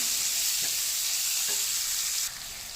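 Onions fry to golden brown in a pan for matar paneer bhurji, giving a loud, steady hiss with a couple of faint stirring knocks. The sizzle drops slightly near the end.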